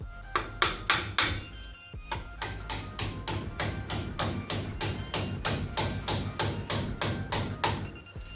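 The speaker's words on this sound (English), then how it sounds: "Grab your hammer." A hammer strikes a brake slider piece on the front brakes of a 1978 Ford F-250, with a steady series of about twenty loud metallic blows close by, each evenly spaced after a brief pause near the start.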